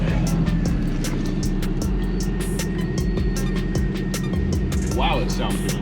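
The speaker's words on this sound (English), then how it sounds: "Let's get this car started." A Pontiac G8 GT engine idles steadily just after starting, with a close, even low rumble and a quick regular pulse and no talk over it.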